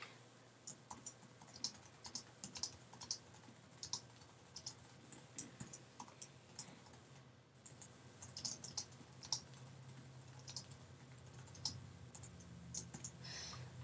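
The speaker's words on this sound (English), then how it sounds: "I've just typed in some text" Soft, steady keyboard typing with scattered mouse clicks, close and quiet, a light patter of keystrokes running throughout.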